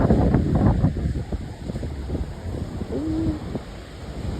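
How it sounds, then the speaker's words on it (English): Strong wind buffets an outdoor microphone in gusty, uneven rumbling bursts, loudest at the start and easing slightly, with a brief faint tonal chirp partway through. "It's so windy."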